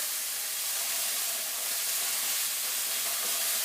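Chicken fillets fry in a hot pan, giving a steady, even hiss and sizzle that holds constant throughout with no voices.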